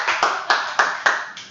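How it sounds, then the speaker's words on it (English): Applause in a class comes as a few sharp, evenly spaced hand claps, close and clear, about five beats in quick rhythm with no talking. "Give this guy a round of applause."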